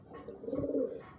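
A racing pigeon, an old long-distance bird, coos once in a soft low rolling call that swells mid-clip, fairly close against quiet background noise.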